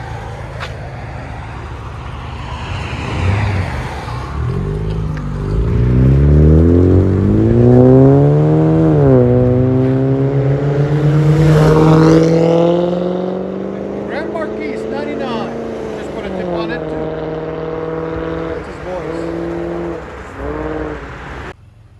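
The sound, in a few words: Chevy Malibu 4-cylinder turbo exhaust revving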